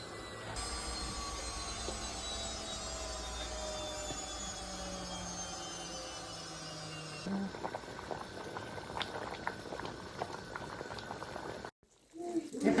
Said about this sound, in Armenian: թողնում ենք մի լավ եփի